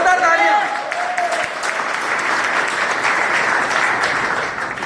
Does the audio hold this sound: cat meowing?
no